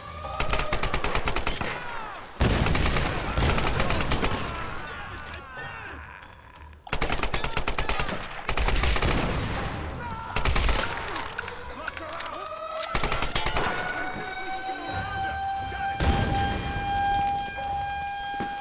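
Rapid automatic gunfire in the Tomb Raider video game hammers in loud, dense bursts with brief gaps, while a wailing siren tone rises and holds underneath.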